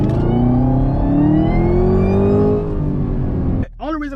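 A car engine revs hard under heavy throttle while sliding on worn tires, a loud sustained roar with rising pitch, heard from inside the car with a voice talking over it, then dropping off with a brief squeal near the end.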